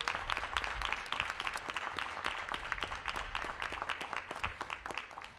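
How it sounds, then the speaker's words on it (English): Steady applause from a crowd fills the whole stretch, many hands clapping at an even, moderate level. "please give all of the steering committee members a round of applause"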